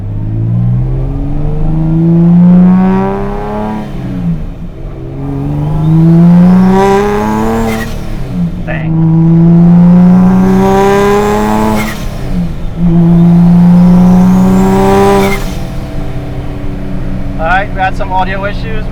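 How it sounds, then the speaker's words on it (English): Boosted Nissan NISMO engine revving hard in repeated rising pulls, each ending in a sharp hiss from the blow-off valve, loud and close, with a brief burst of chatter near the end. "We got the blow-off valve sounding nice now."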